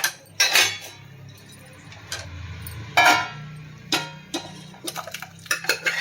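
Metal utensils clinking against a cooking vessel while snake gourd kootu is poured from a pressure cooker into a bowl, a few sharp separate clinks spread over several seconds, close and without talk.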